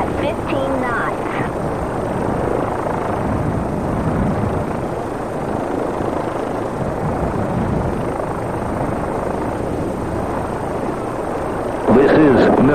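RAH-66 Comanche helicopter in the Enemy Engaged combat flight game builds a loud, constant rotor and turbine roar as it takes off, with a voice speaking over it.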